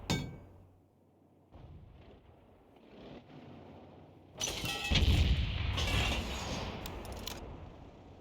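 A Bishop self-propelled gun firing in a video game, with a sharp blast at the start, quieter mechanical clanks, then a loud rumbling burst of fire and explosion noise that lingers near the end.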